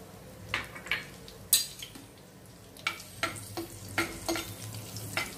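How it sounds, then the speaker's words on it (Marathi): Crushed garlic and a green chili frying in hot oil in a clay pot, a low continuous sizzle punctuated by repeated light clinks and scrapes of a spoon against the vessel. "त्यामध्ये आता आपण ठेचलेला लसूण आणि एक हिरवी मिरची टाकूया"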